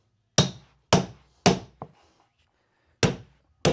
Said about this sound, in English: Now we're going to take our hammer and our stair tool.